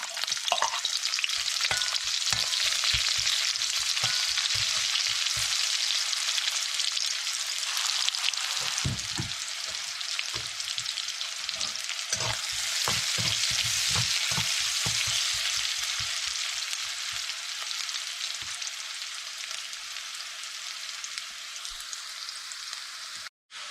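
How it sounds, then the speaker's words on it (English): Chopped onions frying in oil in a pan for a seam and potato curry, a steady loud sizzle with irregular clicks and scrapes from stirring, continuous and close throughout. "we have let this onion fry up for about 30 seconds"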